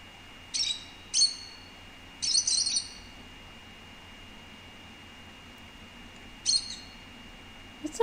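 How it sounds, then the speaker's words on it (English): A small bird chirps in the video game Virginia, giving short, high, bright calls in a few quick bursts with pauses between, over a quiet, steady background. "Friendly little bird."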